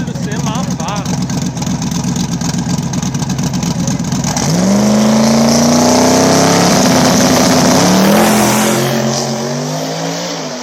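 A small tire drag race car makes a solo bye run at the back of the track, engine roaring loud and close, then revving up hard through the gears and fading slightly as it pulls away.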